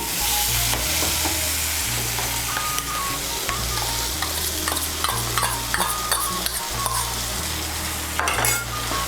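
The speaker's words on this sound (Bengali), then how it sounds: "টক দইটাকে ভালো করে মিশিয়ে নেব। মিশিয়ে নিয়ে মশলাটাকে আরেকটু ভালো করে কষিয়ে নেব।" Spice masala fried with sour yogurt for a Bengali cauliflower curry (fulkopir torkari), stirred steadily with a spoon; loud continuous sizzle with repeated scraping and occasional clinks against the pan, no voices.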